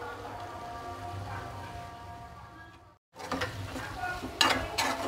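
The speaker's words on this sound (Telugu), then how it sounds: "కారం చక్కగా ముక్కలకు పట్టేట్టు తిప్పుకోవాలి. మొత్తం కలిసేలాగా తిప్పుకుంటున్నాను." Prawn curry with chili powder being stirred in a pan, a soft continuous sizzle with scraping stirs, a brief silent break, then louder clattering stirs and spoon knocks close by.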